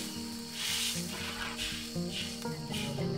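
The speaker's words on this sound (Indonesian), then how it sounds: "Santannya sudah mendidih" Coconut milk boiling in a pan for rujak-spiced bakakak chicken, a steady close bubbling sizzle that swells and fades slightly throughout, with no one talking.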